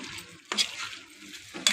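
Chicken fries in a pan with coriander powder, a soft steady crackle broken by a couple of sharp scraping clinks from stirring.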